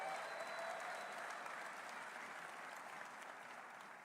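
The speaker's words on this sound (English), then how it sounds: "Give them a round of applause." A crowd applauds at a university football coach's introduction event, a dense, even wash of clapping that holds steady before slowly fading, heard at a distance with no speech.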